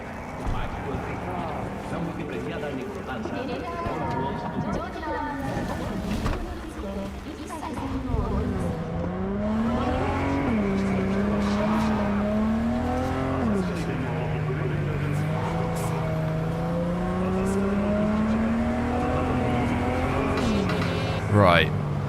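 A car driven in Cyberpunk 2077, its engine droning steadily with rising and falling pitch as it shifts and revs. Talk runs over it throughout.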